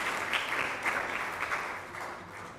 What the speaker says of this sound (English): May you clap for yourselves.